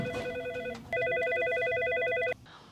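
An electronic telephone rings in two bursts of steady warbling tone, the second longer and louder, close and clear, with no talking.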